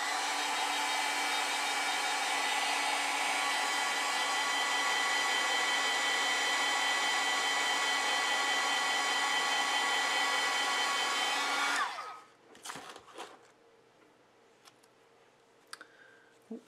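A hair dryer drying acrylic paint on a beginner bird painting runs loud and steady for about twelve seconds, then shuts off, leaving faint clicks and handling noises.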